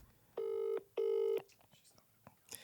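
Two long, steady electronic tones from a phone call ring out close and clear, separated by a short gap, and quiet voices follow.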